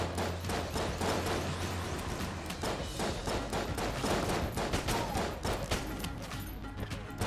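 Rapid bursts of gunfire from the roguelike shooter Enter the Gungeon crackle almost continuously, with dense overlapping shots and no pauses or voices.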